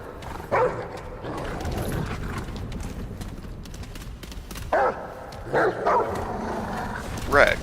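A dog companion barks in the video game Remnant From the Ashes, several short, sharp yelps spaced out over a busy background of game sound, with someone talking over it.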